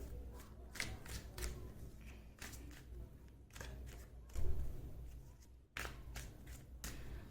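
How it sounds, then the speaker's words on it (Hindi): Tarot cards shuffled by hand at close range, quiet repeated papery riffles and flutters in short bursts separated by brief pauses. "मैं कार्ड्स आपके सामने ही शफल करूंगी गाइस"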